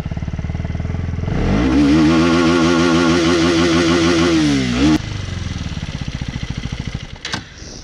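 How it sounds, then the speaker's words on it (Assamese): A new-generation KTM Duke motorcycle idles, then its engine revs up sharply and holds a high, buzzing pitch for about three seconds before dropping back to a close, loud idle. "এইটো হল RPM সাউন্ড"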